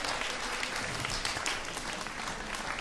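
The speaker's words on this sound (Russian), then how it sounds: "Аплодисменты" Audience applause at a stage event rolls on steadily and evenly for the whole stretch, a dense wash of many hands from a sizeable crowd heard at a middle distance, with no voices standing out above it.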